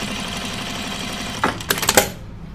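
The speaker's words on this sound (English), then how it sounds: "I'm going to push it to the side and top stitch it" A sewing machine top-stitches a cupcake or pie-slice pincushion, starting with a short, fast mechanical clatter of needle strokes over a steady room hum, then stopping.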